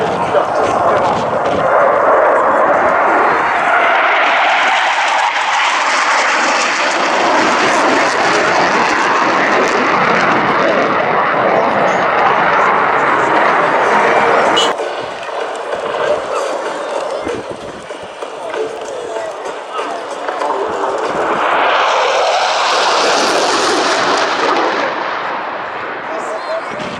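Military jet roaring past at an airshow, a loud sustained blast of engine noise that dips briefly midway and then swells again as the aircraft passes close overhead.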